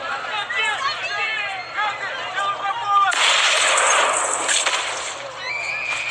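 Sniper gunfire in a war film scene comes after a stretch of talking: a loud, harsh burst of shots and crackling fills the second half, with a short quieter gap near the end.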